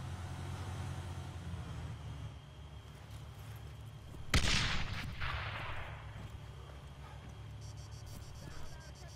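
A thrown frag grenade in Arma 3 detonates in one sharp, loud blast midway, its rumble decaying over a couple of seconds, over a quiet outdoor bed of insect chirps with faint later gunfire.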